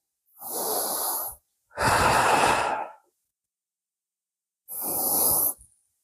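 Three long, slow breaths during a yoga core-strengthening twist exercise, each a broad airy exhale or inhale lasting about a second, spaced by brief silences, close and clear with no talking.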